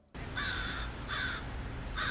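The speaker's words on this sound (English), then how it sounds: "I do notice differences in the crows' sounds, crow language." Crows cawing in a series of three harsh, evenly spaced calls, fairly close and clear against a low background rumble.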